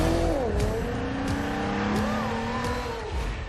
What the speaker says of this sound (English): Nissan has a car for everyone.